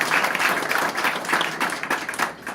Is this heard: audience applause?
yes